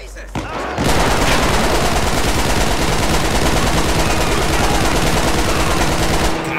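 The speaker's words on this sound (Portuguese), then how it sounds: "que jorrada de tiro" Sustained, dense rapid-fire gunfire roars continuously for several seconds, loud and close, like automatic weapons in a game.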